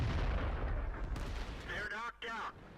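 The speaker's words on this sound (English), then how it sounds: "Fire the shell." An artillery shell fires in World of Tanks with a loud low boom that rumbles and fades over a couple of seconds, and a voice comes in briefly near the end.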